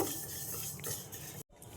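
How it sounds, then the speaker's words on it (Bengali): Moong dal fries in a pan, giving a close, steady rustling sizzle with stirring scrapes and a very brief break near the end. "তো ডালটা আমি আগে ভেজে নেব।"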